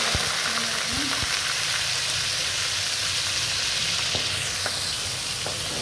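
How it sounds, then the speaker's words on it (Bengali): Fish frying in white cooking oil gives off a steady, even sizzle that fills the whole stretch, with a couple of faint clinks near the start and no voices. "মাছটি ভাজা হোক। আর মাছটি ভাজা হয়ে যাচ্ছে।"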